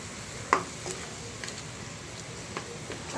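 Sliced onions softening in a hot pan give off a faint, steady sizzle, broken by a few soft clicks of stirring.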